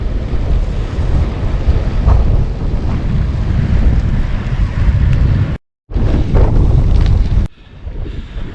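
Strong headwind buffeting the microphone while bikepacking, a loud, continuous rumbling roar with a brief cutout and a quieter stretch at the end.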